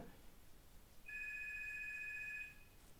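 A telephone rings indoors, a steady electronic tone lasting over a second, fairly clear above a quiet background with no talking.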